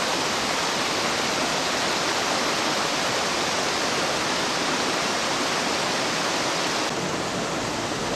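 The stream Rattling Run rushes beside the Bordner Cabin in Swatara State Park, a loud, continuous broadband wash of flowing water that stays constant throughout, close to the listener.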